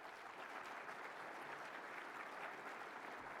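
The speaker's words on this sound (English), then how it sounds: "Could we recognize them with a round of applause?" Breakfast session crowd at a mathematics conference claps in a steady, even wash of applause throughout, soft and somewhat distant in a large room.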